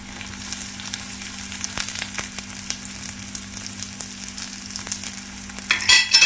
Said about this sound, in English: Now we have to add the shallots. I'm going to add the ginger and chilies.